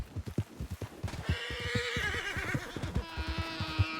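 Hooves clip-clop steadily while a horse in Red Dead Redemption 2 gives a loud, shaky whinny that rises and trails off, then neighs again over the continuing footfalls.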